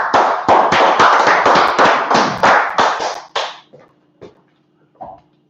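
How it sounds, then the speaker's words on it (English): A group claps in tight rhythmic unison, about a dozen loud synchronized claps roughly every third of a second, then stops abruptly, followed by a few scattered isolated claps and a faint voice in a quiet room. "Oh, clap it up again."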